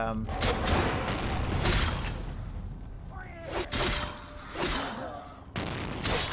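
Shotgun fire in the vampire video game Vampire the Masquerade: Bloodlines, a dense barrage of loud blasts and whooshes over the first seconds, then scattered shots with someone talking over parts of it.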